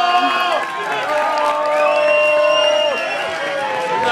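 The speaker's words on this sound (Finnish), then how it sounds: "Aplodit ihanalle." Concert crowd at a summer party gig cheering and whooping, with shouted voices rising and falling over scattered applause throughout.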